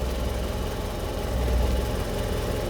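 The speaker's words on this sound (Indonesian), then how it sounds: "Starter dulu. Wah, langsung menyala ya teman." A Suzuki Carry 1000 (ST100) engine idles steadily just after starting, a loud, even low rumble close by with no talk over it.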